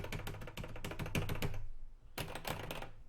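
Sanwa and Seimitsu arcade buttons pressed in quick bursts of sharp, keyboard-like clicks, close and clear, with a short pause before another flurry of presses.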